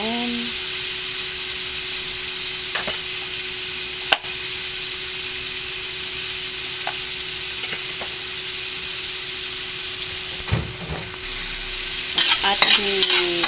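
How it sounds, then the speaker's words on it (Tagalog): Onions and tomatoes sautéing in a pan for pork and chicken sinigang, a steady close hiss with occasional soft scrapes and clicks of stirring, and a brief clatter near the end. "gigisa muna natin ang ating sibuyas, kamatis, sibuyas at kamatis."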